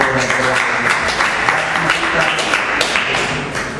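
An audience at an academic seminar applauds, and the dense clapping runs steadily for the full few seconds, close and fairly loud with a mix of sharper individual claps.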